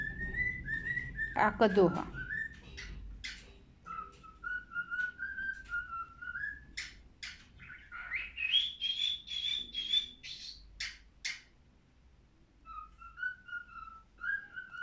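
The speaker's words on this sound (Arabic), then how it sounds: "عصفور اليوم مبسوط الحمد لله بيغني" A small pet bird sings indoors during a needle-lace lesson, giving repeated bright whistled phrases and rising trills. The singing runs steadily through the clip under a woman's intermittent speech.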